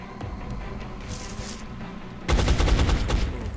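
Burst of gunfire from a soldier's shot in X-Com: Enemy Unknown, a loud, rapid volley of close shots that erupts suddenly after a quieter stretch of faint scattered sounds.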